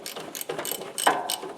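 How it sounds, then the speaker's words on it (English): A ratchet wrench clicks rapidly and steadily up close while loosening a 14mm bolt on a 2010 Kubota ZD221 zero-turn mower, in quick bursts of metallic pawl ticks with no speech. "let's get this bolt out of the way"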